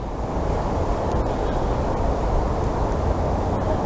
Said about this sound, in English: Just need the wind to drop now.